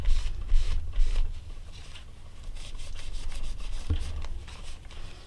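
A baby wipe rubs and scrubs gesso off an art journal page in short, close strokes, with a few soft swipes and brief pauses between them.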